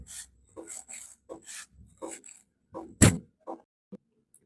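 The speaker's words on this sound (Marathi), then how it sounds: "सेम प्रोसेस मध्ये आपण सगळे पराठे लाटून घेऊया." Aloo palak paratha dough being rolled out with a rolling pin: a series of short, soft rubbing strokes with brief pauses between them, close by and fairly quiet, with one louder stroke near the end.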